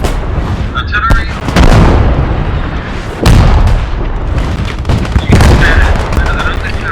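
Booming artillery blasts and explosions during a night urban battle in the World War II shooter PostScriptum, French versus German, with two or three loud heavy impacts over constant rumbling combat noise and a voice talking.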